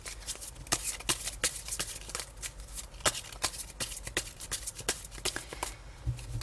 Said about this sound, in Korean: 그 마법적인 순간이 언제 올지 추가 카드 한번 뽑아볼게요.